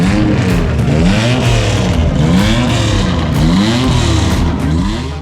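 A classic South African race car once driven by Eddie Keizan and Ian Scheckter revs hard at a motoring festival. The engine is loud and close, rising and falling in pitch in repeated sweeps, and no one talks over it.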